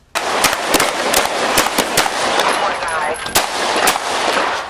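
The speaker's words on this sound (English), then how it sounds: "Officers outside the SUV fired into the back seat." Rapid bursts of police gunfire exchanged with a suspect at an SUV, officers firing into the back seat; loud, close, sharp shots in irregular clusters over continuous noise throughout.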